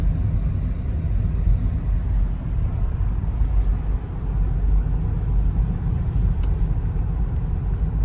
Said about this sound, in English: So we're driving down PCH going southbound.